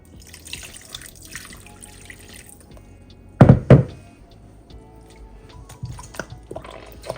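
Tap water runs and splashes while homemade butter is rinsed in a bowl, a steady moderate wash broken by two loud, close knocks and splashes near the middle.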